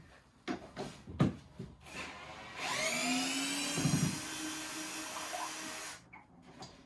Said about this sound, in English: And you can do the same thing with your cordless screwdriver.